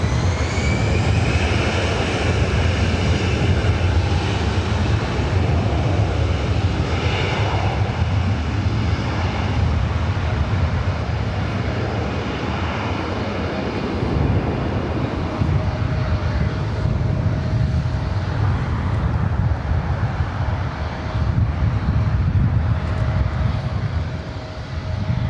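An airliner takes off from runway 24 right at Los Angeles International Airport, its jet engines giving a loud, close, sustained roar that holds steady for the whole stretch without a break.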